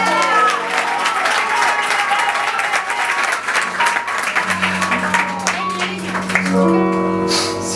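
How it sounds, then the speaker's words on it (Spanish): A theatre audience at a concert at Teatro Maipo breaks into loud, sustained applause, dense clapping that fills the room and then thins as a tonal sound rises beneath it toward the end. "Un aplauso para todos y Oliveira."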